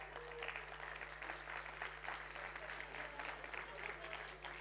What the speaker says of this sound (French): Je pense que déjà ça peut s'applaudir.